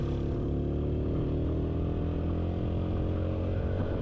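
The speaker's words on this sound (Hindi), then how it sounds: "हमारी बाइक्स जो है वो छोटी हैं। 125 150 सुजुकी इस तरह की बाइक्स हैं।" Small 125–150cc Suzuki motorcycles climbing uphill on a mountain road in Kashmir, a steady droning engine hum with low harmonics, sustained and moderately loud throughout.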